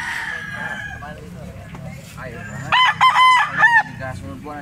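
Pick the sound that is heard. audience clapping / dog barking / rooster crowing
rooster crowing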